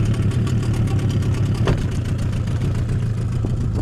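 A Suzuki 9.9 outboard boat motor runs steadily with a low, even chugging drone, close and loud throughout.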